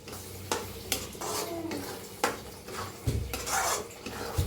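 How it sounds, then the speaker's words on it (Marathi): Roasted masala is stirred and mixed in oil in a pan for a brinjal dish. Repeated scraping strokes of a spoon against the pan come at an uneven pace, close and fairly quiet. "एकदम मिक्स करू."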